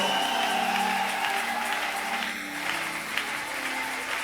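Congregation applauding Jesus Christ during a Sunday church service, a steady wash of clapping from a large crowd that holds at an even level throughout.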